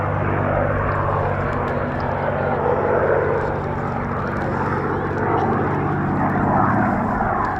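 A P-51 Mustang flies at an air show, its piston engine droning steadily and loudly without pause, with some talk mixed underneath.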